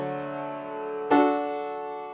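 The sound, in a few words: piano playing blocked chords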